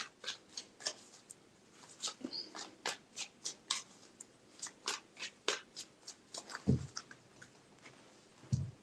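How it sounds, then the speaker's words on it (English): Tarot cards are shuffled three times in a quiet room, each pass a quick run of crisp riffling flicks repeated at a steady, close rhythm, ending with a couple of soft thuds as the deck is set down. "3 shuffles."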